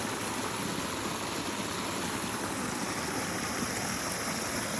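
Water flows steadily over a clear, sandy-bottomed stream at Prescott Falls on the Dunn's Farm Loop, a constant close broadband rush with no voices.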